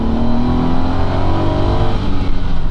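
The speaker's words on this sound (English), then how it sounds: "it just accentuates all the noises coming from this turbocharged motor" The turbocharged engine of a Honda S660 kei car revs loud and close, a steady droning growl that rises slightly in pitch, with no talking.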